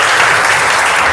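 Audience applause at a career counseling session, a dense, steady wash of many hands clapping loudly and evenly throughout.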